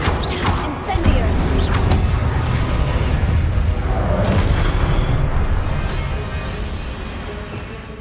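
An Incendio fire spell in Hogwarts Legacy bursts out as a loud, dense roar of flame and impact, sustained for several seconds before slowly easing off.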